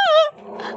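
A dog gives a short, close growl with a whining tone that fades into a low rumbling snarl, all within under a second, with no speech.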